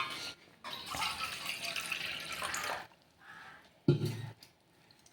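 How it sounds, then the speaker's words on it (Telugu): Half a cup of water pours into a bowl of semolina to make instant dosa batter. The close splashing stream lasts about two seconds, followed by a faint trickle and a short knock. "ఇదే గిన్నెతో సగం కప్పు నీళ్ళు అయితే వేస్తున్నా."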